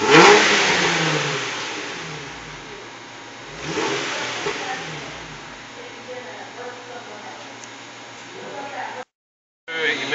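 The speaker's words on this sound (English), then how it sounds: "I'm going to snap the throttle between 2 and 3" A vehicle engine is snapped open at the throttle during an emissions check of the exhaust for smoke. It gives loud broadband revving surges near the start and around four seconds, falling back to a steady running sound, with a brief dropout near the end.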